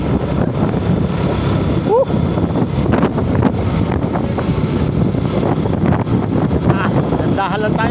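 Strong wind buffeting the microphone while riding a Euro Rapido 110 motorbike on a road from Tagaytay to Talisay, Batangas, a loud continuous low roar with a voice talking over it.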